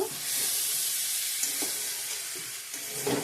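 Spice paste frying in oil with peas and potatoes ahead for an egg curry, giving a continuous close hiss and sizzle with a few soft stirring knocks.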